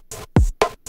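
A sparse electronic drum machine pattern plays crisp hi-hat ticks around a deep, pitch-dropping kick and a sharp snare-like hit, four short dry strikes with silence between them.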